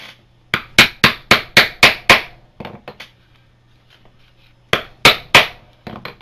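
Tooling hammer striking leather for a holster: a quick run of six sharp, loud raps, a pause with a few lighter taps, then another burst of four strong hits, all close and with no talking.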